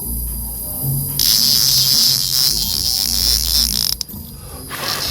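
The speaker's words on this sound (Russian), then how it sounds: "Глядите, как работает цикада." Close up, a cicada in Eswatini starts a loud, harsh, steady buzz that drones for several seconds, briefly cuts out, then resumes.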